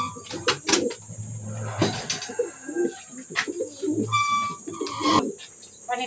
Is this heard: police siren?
no